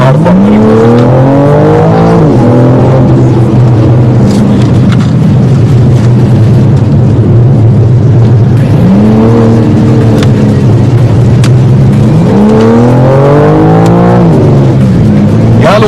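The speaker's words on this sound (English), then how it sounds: "they saw a BMW M4, which is this one, doing rounds in corners near Mahabaleshwar" A BMW M4 driving through corners near Mahabaleshwar gives loud, close engine revs that rise and fall repeatedly as it accelerates and shifts, with voices talking over it.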